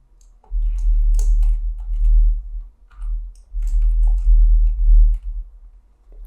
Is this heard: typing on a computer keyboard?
yes